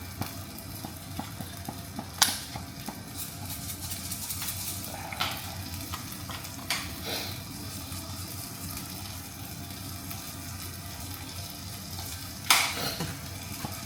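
Sardine pasta sauce seasoned with salt and oregano sizzles steadily in a pan as a spoon stirs it, with occasional sharp scrapes and clinks against the cookware.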